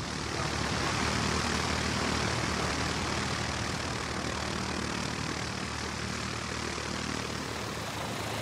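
Propeller mail planes of the interwar Aéropostale line landing at Puerto Santa Cruz and taxiing on the airfield, their engines a steady, dense drone that holds at one level throughout, with no talk.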